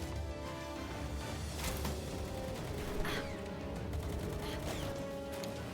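Enemy gunfire in the video game Palworld, a dense, steady fusillade of overlapping shots under a busy game soundscape, with a few sharper cracks standing out near the middle.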